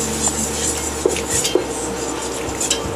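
Milk being stirred into cooked butter and flour for a bechamel sauce, with a utensil clinking and scraping against the pot and a couple of sharp knocks over a steady background hiss.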